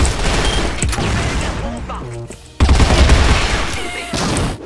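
Rapid gunfire bursts from a pistol and rifle in the CrossFire online shooter, dense and loud with a brief pause midway, continuing under faint game effects.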